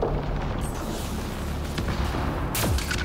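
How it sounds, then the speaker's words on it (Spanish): Gunfire and booming blasts from a shootout in the video game Mass Effect Andromeda, played on PS4, with a dense roar of shots and one sharper burst near the end. "nos encontramos con otro tiroteo en el que tenemos que ir avanzando por esa estructura a base de tiros"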